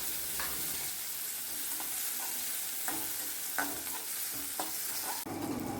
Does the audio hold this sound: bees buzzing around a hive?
no